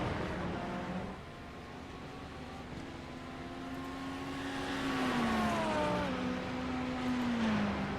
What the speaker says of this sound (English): And back on the throttle all the way towards turn one